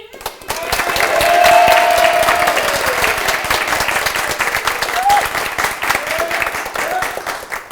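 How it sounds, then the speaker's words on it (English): A live audience claps and cheers as loud as it can, the clapping swelling quickly and holding dense and loud, with raised voices and whoops rising over it. "So after 3, I want you all to clap and cheer as loud as you can"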